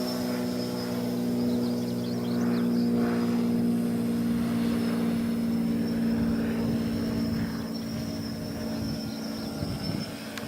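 A homemade box-frame quadcopter drone lifting off and flying: a constant high, buzzing whine of spinning propellers with a droning hum, fairly close and steady throughout.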